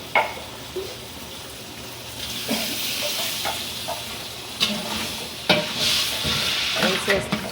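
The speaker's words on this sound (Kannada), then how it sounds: "ಎಷ್ಟು ಚೆನ್ನಾಗಿ ಕುದೀತಾ ಇದೆ ಸಾಂಬಾರು" Sambar made with tamarind juice and tomato boils in a pot at a village eatery, a steady sizzling hiss broken by sharp scraping and clanking strokes of a ladle stirring it.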